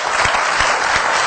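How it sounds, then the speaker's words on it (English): Loud, close applause from an audience following a personal story at a gathering, a dense wash of clapping with a few distinct individual claps standing out. "can we give a big round of applause for Sage?"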